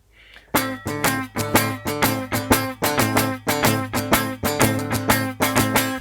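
Rhythmic guitar strumming with damped, choked strings giving short percussive chords in a steady pattern, close and fairly loud, with no talking.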